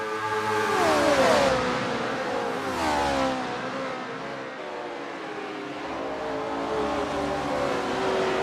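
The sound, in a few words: race car engines in a racing video game, V8 cars at Kyalami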